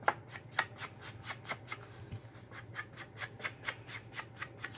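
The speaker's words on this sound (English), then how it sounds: "distress all the edges on all pieces of our paper" Edges of paper card pieces are distressed by hand for a vintage layered card, a run of quick, regular scraping rubs, close and fairly quiet, repeating about three times a second.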